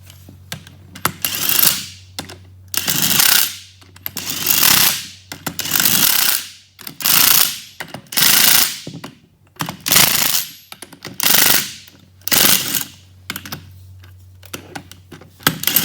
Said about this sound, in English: I'm actually going to finish tightening these with air so we get a little more force behind it.